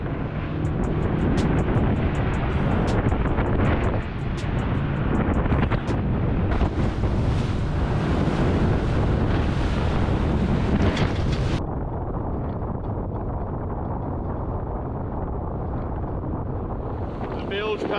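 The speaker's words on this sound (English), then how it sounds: "The wind's got up now, so it's going to be a rough run home" Strong wind roars across the microphone at sea as a boat runs home through rough water, a steady loud rush with waves and hull noise throughout, easing slightly toward the end.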